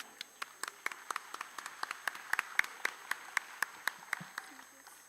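Scattered hand claps build into a steady round of applause from a modest crowd, sharp individual claps standing out against a light background murmur.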